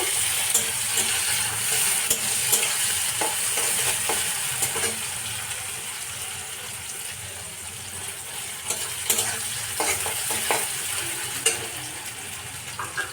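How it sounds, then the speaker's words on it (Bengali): Onions sizzle steadily in hot oil in a pan with garam masala, with scattered scraping clicks from stirring, close and continuous with no voices. "সঙ্গে দিয়ে দিচ্ছি পেঁয়াজ, খুব বেশি না, অল্প একটু নেড়ে চেড়ে নেব।"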